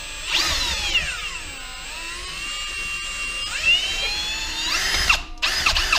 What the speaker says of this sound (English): it wasn't quick enough, so we shoved it in the drill